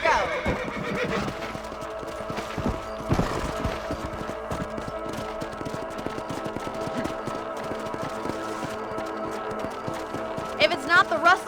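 A horse whinnies sharply in the video game Red Dead Redemption, followed by steady clip-clopping hooves and other game effects, with a voice calling out over the action.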